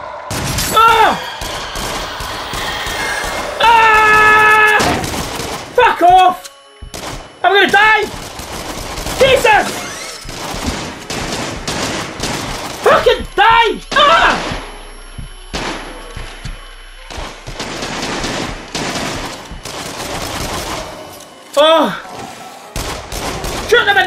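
Rapid bursts of gunfire in the horror shooter game Until Dawn: Rush of Blood, loud and repeated in clusters with thumps and booms between, while a player shouts over it.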